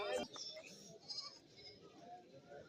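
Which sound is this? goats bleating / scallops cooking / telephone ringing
goats bleating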